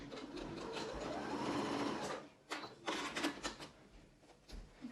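A sewing machine stitches Ankara fabric for a reusable face mask, running steadily for about two seconds, then pausing and restarting in short bursts with some fabric handling between them.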